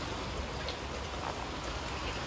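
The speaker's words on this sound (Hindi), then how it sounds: "बहुत तेज बारिश हो रही है" Steady, dense rain hisses without letup, a continuous wash of drops pattering on a surface, with no voices.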